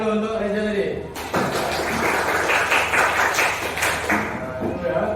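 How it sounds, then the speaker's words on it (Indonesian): A teacher speaks briefly in a school classroom before students break into sudden applause, a burst of many hands clapping that fills the room and continues steadily to the end. "tepuk tangan dulu untuk Reza tadi."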